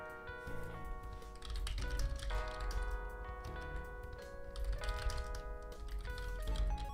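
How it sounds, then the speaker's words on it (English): Light, quick typing on a computer keyboard clicks irregularly in the foreground, played under steady background music with sustained melodic tones. "I don't know if you can hear me like typing and stuff, can't you?"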